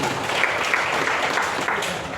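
Sustained, loud audience applause fills a large seminar hall in Doha, Qatar, a dense steady clatter of many hands clapping from start to finish with no break.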